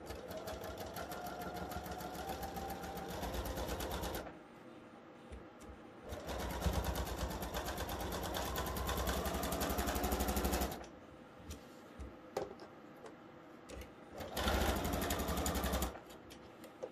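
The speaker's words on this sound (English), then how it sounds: "You're going to, again, sew a 1/4 inch seam." A sewing machine stitches a quarter-inch seam across a diamond-in-a-square quilt block, running in three steady, close bursts of whirring with quieter pauses between them.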